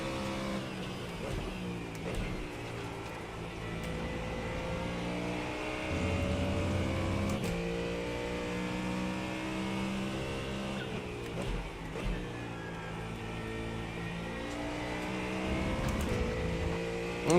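A Ford Mustang GT3 race car engine in the iRacing sim racing game, a loud sustained roar that climbs and drops through the revs with repeated gear changes, continuous and up close, with no talking.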